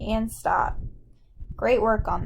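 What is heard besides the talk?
No everyday noise stands out behind the speech.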